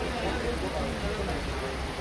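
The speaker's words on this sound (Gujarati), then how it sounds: "વરસાદ ચાલુ છે અહીંયા," Monsoon rain falls steadily at Matheran hill station, making a soft, even hiss with faint voices murmuring in the background.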